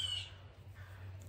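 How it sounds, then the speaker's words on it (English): Outdoor birds calling, with a single harsh crow-like caw near the start followed by fainter squawks, heard over a low steady background hum. "All the birds are coming on this podcast"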